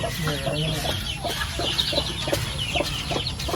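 Native chickens on a poultry farm cluck in short, repeated bursts close by, with steady background noise around them.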